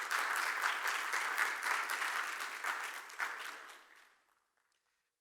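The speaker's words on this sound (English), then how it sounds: "Big round of applause." An audience at a medtech panel discussion in Dubai gives a round of applause for a senior embryologist, a dense, steady burst of clapping that fades out over about four seconds into silence.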